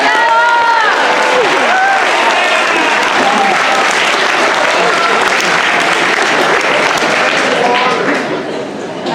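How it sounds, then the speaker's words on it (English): A school audience at BMHS breaks into loud, sustained clapping with cheers and whoops mixed in, dense and close for several seconds before thinning slightly at the end. "round of applause for Noah, guys"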